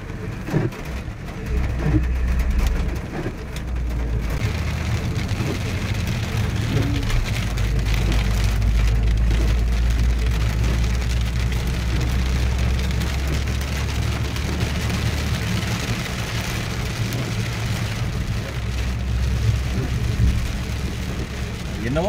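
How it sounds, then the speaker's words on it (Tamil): Heavy rain falls steadily while a vehicle drives along a red-soil road through dense forest near a Tibetan settlement in Karnataka, with a constant low engine and road rumble beneath a dense wash of rain; faint talk in the background. "நம்மளை எதிர்பார்க்காத விட அதிகமான கனமழையை நம்ம பார்க்க முடியுது"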